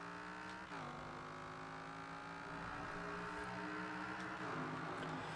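Cheap fast car with a V10 engine swap accelerating hard in Forza Horizon 4, a loud continuous engine roar rising in pitch with quick gear shifts, close and alone.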